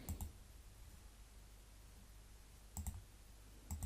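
Mouse clicks in a PowerPoint presentation: three short sharp clicks spaced well apart, close and quiet against faint room hiss.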